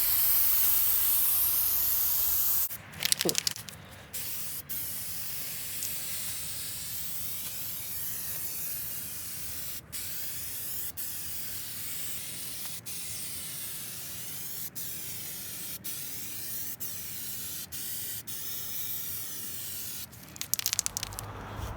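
An aerosol can sprays a protective coating onto equipment, held about 15 to 18 inches back: a steady, close hiss that runs for most of the clip with a few brief clicks and pauses, and no talking.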